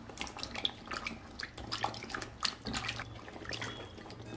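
Capsicum (shimla mirchi) being washed by hand in water, with quiet, close splashing, sloshing and dripping in irregular bursts and no talking.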